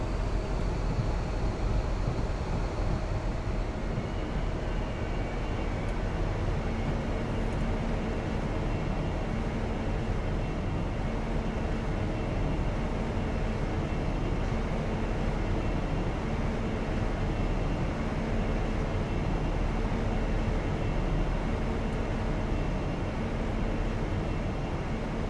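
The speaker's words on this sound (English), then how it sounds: "Passing by another train right here." A train rumbles past on the West Coast Main Line in Train Simulator 2013, a steady, continuous low roar with faint tonal hum that holds at an even loudness for the whole stretch.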